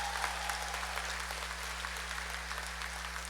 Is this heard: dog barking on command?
no